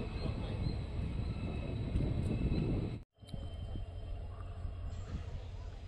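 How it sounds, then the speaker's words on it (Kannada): Kuvempu Express pulling away from Banavara railway station after a two-minute stop, a steady low rumble of the moving train close by, briefly cut out around the middle before resuming with rolling wheel noise. "ನಮ್ಮ ಟ್ರೈನು 2 ನಿಮಿಷ ಸ್ಟಾಪ್ ನಂತರ ಬಾಣವಾರ ರೈಲ್ವೆ ಸ್ಟೇಷನಿಂದ ಹೊರಟಿದೆ"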